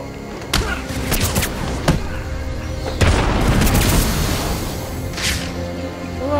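Gunfire in Batman: Arkham City: a handful of sharp, loud shots and booms scattered irregularly over a few seconds, with a heavy impact midway, set against ringing game ambience.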